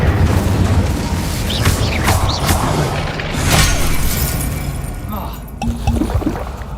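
The Incendio fire spell from Hogwarts Legacy makes a loud, continuous whooshing roar with crackling bursts and rumbling booms throughout, and a voice is heard over the game sounds.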